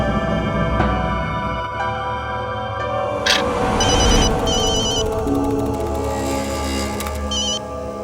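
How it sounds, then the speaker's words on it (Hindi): A telephone rings faintly in a dramatic domestic scene, with short electronic trilling bursts coming in intermittent clusters beneath a dense layer of background music and ambience. "फोन उठाओ"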